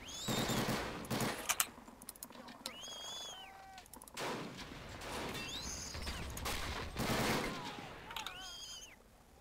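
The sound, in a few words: machine gun fire in a war video game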